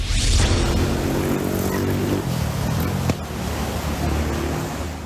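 A swollen, muddy river in flood rushes past a bridge in barangay Matiao, Mati City, Davao Oriental, a loud continuous roar of churning water with a low engine-like drone underneath.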